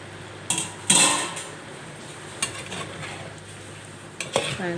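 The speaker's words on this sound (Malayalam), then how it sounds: "ചിക്കൻ ചൂട് കയറി ഒന്ന് ചൂടായി തിളച്ച് വരുന്നുണ്ട് ഇടയ്ക്കൊന്ന് ഇളക്കി വയ്ക്കാം" Chicken curry gets stirred in a pot on the stove. A spoon scrapes and clanks against the metal in a few separate bursts over a soft, constant simmer, with no speech.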